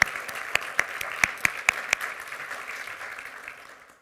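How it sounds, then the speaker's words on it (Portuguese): Applause at the Ciência Viva 2021 science awards ceremony, a moderate crowd clapping with a few sharp, prominent claps near the front, gradually thinning and fading out by the end. "Uma salva de palmas."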